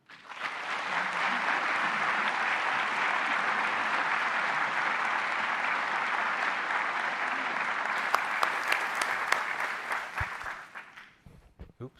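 A large audience applauds steadily to welcome lecturer Dr. Andrei Linde, a dense sustained clapping wave that holds loud for about ten seconds, then thins into scattered claps and fades out.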